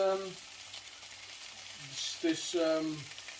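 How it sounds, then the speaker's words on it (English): French fries frying in oil in a pan, a soft steady sizzle running throughout under brief musical tones, fairly quiet and close. "So now the French fries are on the pan. I'm going to add a little bit more oil just to cover them nicely."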